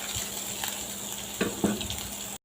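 Tomatoes toast in a pan for an Egyptian lentil dish with tomato sauce, giving a steady close sizzle with a couple of brief stirring scrapes near the end. No one speaks.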